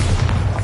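A Bombarda spell in Hogwarts Legacy bursts as one short, loud, dense low boom, filling the whole brief moment with no talking over it.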